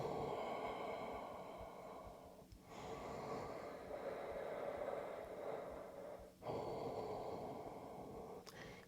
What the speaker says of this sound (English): And keep breathing Ujjayi